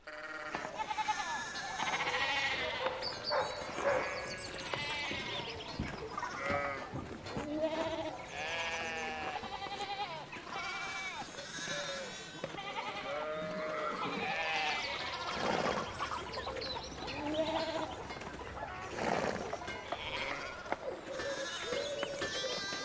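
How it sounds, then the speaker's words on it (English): A flock of sheep in the video game Pentiment bleats continuously, with many overlapping calls near and far filling the scene at a moderate level and no talking. "Sheep are blocking the road currently."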